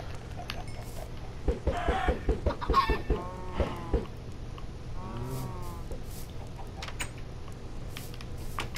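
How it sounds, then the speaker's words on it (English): Minecraft chickens cluck in short bursts of quick, choppy calls against a steady low hum, then things fall mostly quiet. "Look at all those chickens."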